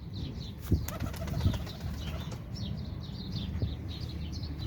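Pigeons being let out flutter and coo softly at a distance, with a few sudden bursts of wing flapping and faint chirps in a quiet outdoor setting.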